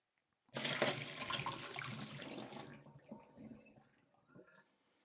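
Hot water is poured out of a water bath into a sink, a close gushing splash that starts abruptly, runs for a couple of seconds, then thins into trickles and drips.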